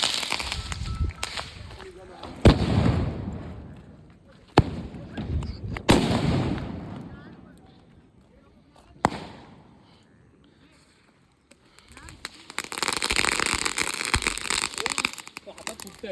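Diwali firecrackers go off at an office celebration, with sharp isolated bangs scattered among crackling and a dense fizzing burst near the end, while people talk and shout throughout.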